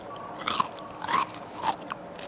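Crisp fresh cucumber coated in chili oil being bitten and chewed up close, three distinct wet crunches spaced about half a second apart, with no talking.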